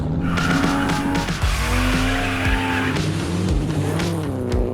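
Race car engines rev and wind through gears while tires squeal and skid, several sharp passes and pitch sweeps over a loud, continuous motor roar.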